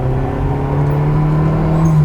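A turbocharged 1966 Austin Mini Cooper, a Mark 1, drives uphill with a steady, loud engine drone and whir held at a constant pitch close by.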